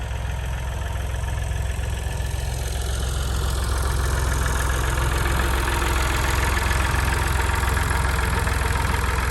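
A small Honda garden tiller engine runs close by, a steady unbroken putter that holds the same loudness throughout with no voices.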